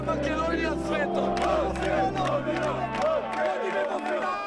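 Macedonian football fans in a large crowd chant and cheer together, a loud, dense roar of voices with rhythmic shouting that carries steadily, then thins out near the end.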